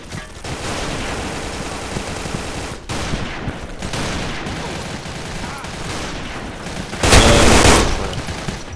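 Automatic weapon fire in a team shooter video game, with dense rapid bursts running throughout and a louder, heavier volley near the end.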